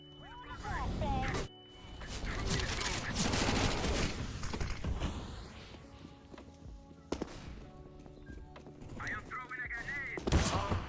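Rapid in-game gunfire and footsteps from a CS:GO match, bursts of shots and mechanical clatter mixed under near-constant excited commentary.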